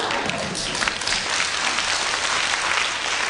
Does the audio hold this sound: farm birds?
no